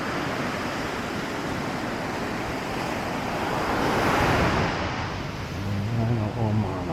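Ocean waves wash against an eroding cliff, a loud, continuous roar of surf and rushing water up close, swelling briefly midway, with wind noise and a voice near the end.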